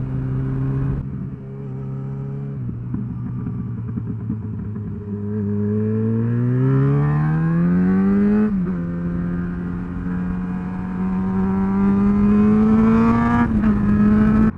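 A high-revving multi-cylinder motorcycle engine revs up through rising pitch, drops off with each gear change and climbs again, loud and close throughout.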